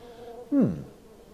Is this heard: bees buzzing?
yes